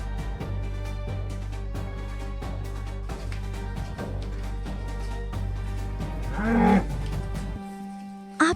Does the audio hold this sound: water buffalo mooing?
yes